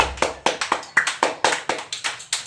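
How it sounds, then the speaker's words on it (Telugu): Small children clap their hands in an anganwadi classroom, a quick run of sharp, uneven claps close by, roughly ten bursts in a row with no talking. "వెరీ గుడ్ క్లాప్స్ కొట్టండి రిషిక్ సాయికి"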